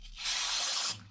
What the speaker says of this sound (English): When you get the brake clean down in there, which I'll do right now.